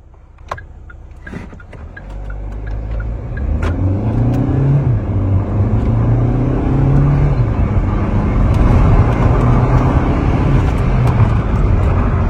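A 110-horsepower Hyundai i30 pulls away from a standstill in a 0 to 80 run, its engine droning and rising through the gears with a steady, building roar heard from inside the car.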